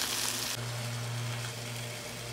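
Rui fish pieces frying in hot oil in a pan, a steady close sizzle that carries through without pause.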